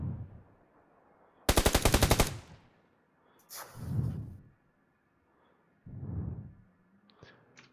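Sustained machine-gun burst from an enemy in a shooter video game, a loud rapid string of shots lasting under a second, followed by a few softer, duller thumps and a faint click, with no talking.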